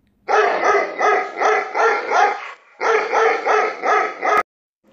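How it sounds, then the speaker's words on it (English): Several village dogs in an animated story bark in quick repeated bursts, a rhythmic clamor of loud, close barks that pauses briefly and then resumes. "But then the dogs in the village saw the jackal and they stopped his way and started barking."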